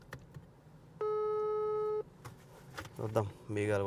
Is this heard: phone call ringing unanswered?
yes